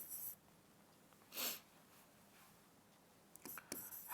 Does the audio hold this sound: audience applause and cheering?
no